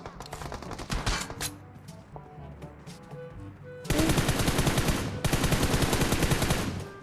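Gunfire in PUBG Mobile: scattered single shots and short bursts come first, then two long, loud bursts of rapid automatic fire, nearby and dominating the scene.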